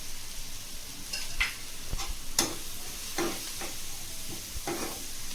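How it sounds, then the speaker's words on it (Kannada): Coriander powder fries in an oiled pan for egg curry, giving a steady soft sizzle broken by several sharp scraping stirs of a spoon across the pan. "ಮೇನ್ ಇದರಲ್ಲಿ ಚೆನ್ನಾಗಿ ಫ್ರೈ ಮಾಡ್ಕೋಬೇಕು"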